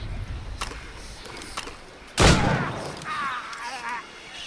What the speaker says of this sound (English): Ready to open fire!